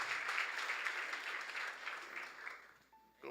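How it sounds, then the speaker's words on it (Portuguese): A church congregation applauding, a sustained patter of many hands clapping at a moderate distance, fading gradually toward the end with a brief tone near the close. "Você pode aplaudir o Senhor?"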